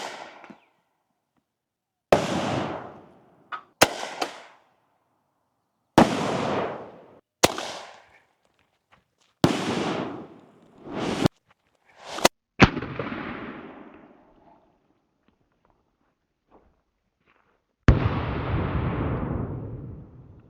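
Rounds from a civilian legal grenade launcher ricochet and detonate outdoors, including in a puddle, as a series of sharp, loud bangs in uneven bursts separated by silence, some followed by longer decaying rumbles.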